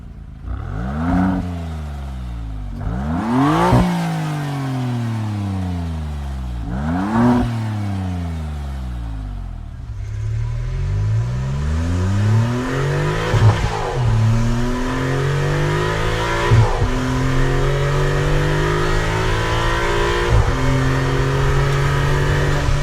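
A 2021 Maserati MC20 and its V6 engine rev in three sharp, loud blips that rise and drop back, then pull into a long, climbing acceleration that stays strong to the end.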